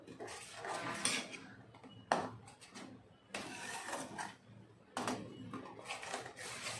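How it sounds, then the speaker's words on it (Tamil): Coconut milk khova being stirred continuously in a pan on the stove, a utensil scraping and clinking against the metal in repeated bursts with short pauses, close and fairly faint. "நம்ம வந்து கைவிடாமல் கிண்டிகிட்டே இருப்போம்"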